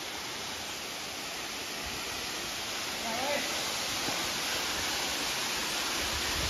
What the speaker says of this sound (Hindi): ये देखिए यहाँ पर झरना, ये है नागकुंड यहाँ पर ऊपर ऊपर से आता है पानी यहाँ पे